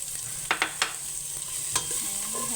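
Garlic and ginger sautéing in a pan, a steady close sizzle broken by a few sharp scrapes and taps of a spatula stirring, with no talk.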